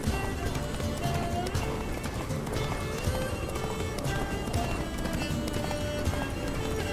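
Hooves of a horse gallop in The Witcher 3: Blood and Wine, a steady, busy run of clip-clops under dense game sound and music, with talk mixed in.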